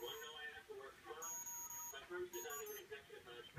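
An Emax 12 amp ESC sounding its startup beeps through a Cobra 2204 brushless motor, a short series of thin electronic tones at close range with brief gaps between them.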